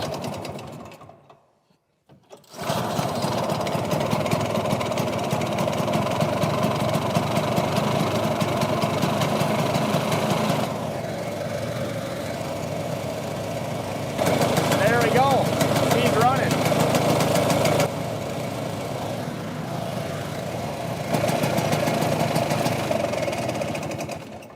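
A Ski-Doo Elan snowmobile engine idles after a cold start with a fast, rattly two-stroke chatter. It runs steadily with slight shifts in pitch and loudness, close by, after a brief quiet opening.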